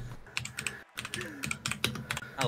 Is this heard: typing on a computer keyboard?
yes